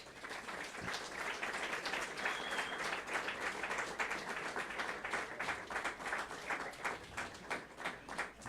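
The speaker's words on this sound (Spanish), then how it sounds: "Un aplauso para él, por favor." Applause from an audience at a panel event on Mexican punk history; dense, fairly distant clapping continues for the full stretch with slight swells and no talk over it.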